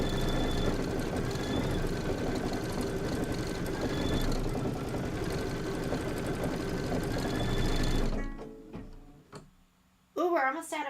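A sewing machine stitches quilt blocks, running in a steady, fast mechanical whir for several seconds before it stops, followed by brief clicks and a voice speaking.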